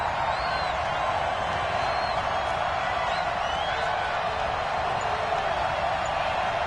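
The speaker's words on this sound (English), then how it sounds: "The crowd getting into it as we come up on a big 3rd down" A stadium crowd in a football video game builds ahead of a big third down, a steady, distant roar with faint whoops over it that holds evenly throughout.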